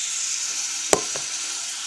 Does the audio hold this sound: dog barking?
no